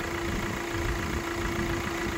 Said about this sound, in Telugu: ఇంజన్ బీటింగ్ వినండి